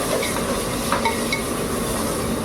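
Ground onion, garlic and ginger paste sizzling in a pan for prawn biryani, with a steady soft frying hiss and a few faint stirring scrapes.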